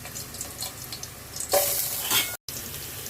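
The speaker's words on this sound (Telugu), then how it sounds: "ఆనియన్స్ మంచిగా వేగుతాయి, బ్రౌన్ కలర్ తొందరగా వస్తాయి" Finely chopped onion frying in hot oil for chicken keema pulao, a continuous close sizzle that swells loudly midway as the pieces are stirred, then settles, with a brief gap near the end and no voices.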